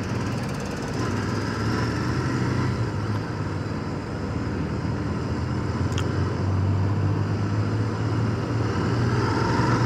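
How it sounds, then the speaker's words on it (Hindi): Volkswagen Polo fitted with a custom exhaust, a steady rumbling engine drone with a low throaty burble that swells slightly toward the end, heard nearby amid road noise. "सामने में जो पोलो है उसमें लगे हैं कस्टम एग्जॉस्ट, जिसकी आवाज़ है बहुत ही खूबसूरत"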